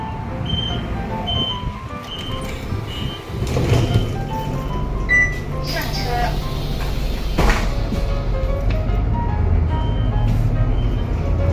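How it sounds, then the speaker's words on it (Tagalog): A bus pulls up at a stop in Taiwan on a holiday, its engine rumbling nearby amid street noise, with electronic tone beeps and a door sliding. "Dito na po yung bus na sasakyan natin."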